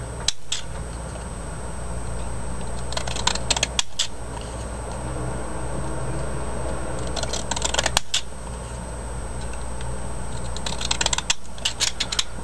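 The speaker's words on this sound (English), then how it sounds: "First, take a big square and put a positive cut on all four sides of it." Fiskars paper edger with a sunflower pattern blade cutting along the four sides of a paper square, giving repeated crisp snipping crunches in short bursts over a steady low background hum.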